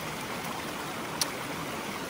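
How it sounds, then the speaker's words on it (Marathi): Steady river water flows past, a continuous rushing wash heard nearby at a fairly even level, with one brief click partway through and no voices. "बघा पाणी कसं जात आहे बघा"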